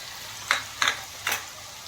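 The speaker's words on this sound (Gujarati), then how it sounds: "અને આપણે થોડીક વાર સાતળવાનું છે" Ginger, green chili and garlic paste sautéing in a pan for green pav bhaji, a soft steady sizzle broken by three quick scraping stirs of a spoon, close and clear.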